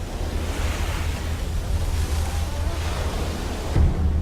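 Ocean waves wash against Fiji's coastline in steady, continuous surf, with a low rumble and gusting wind buffeting the microphone throughout, and a heavier surge near the end.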